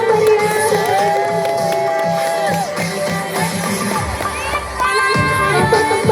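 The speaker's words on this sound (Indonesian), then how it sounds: "Beri tepuk tangan dulu yang meriah." Loud cheering and shouting from a crowd of school students at a madrasah showcase event, with high excited voices and some clapping blending into a lively, continuous din.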